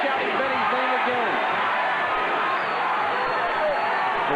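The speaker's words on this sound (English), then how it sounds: "Crowd comes alive, shouting Benny's name again." Fight crowd at Benny "The Jet" Urquidez's last bout chanting and shouting his name, a loud continuous roar of many voices with no pauses.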